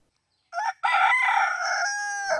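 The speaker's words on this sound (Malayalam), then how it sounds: "ക്ഷേത്രത്തിലെ അമ്പല കോഴികളാണ് നഗരത്തെ കൂവി ഉണർത്തുന്നത്" A temple rooster crows once nearby in Cherthala, a short opening note followed by a long drawn-out call, loud and clear against silence.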